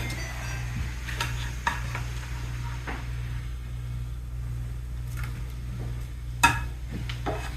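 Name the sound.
stirring the pan sauce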